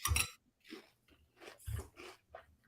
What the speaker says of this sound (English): All I can hear is munching.